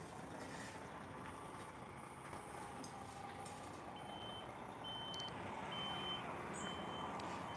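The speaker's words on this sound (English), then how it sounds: "So that truck's going to go in now," A truck reversing outside a slaughterhouse sounds a steady series of evenly spaced backup beeps, clear over a constant broad outdoor rumble of engine and ambient noise, with no talk.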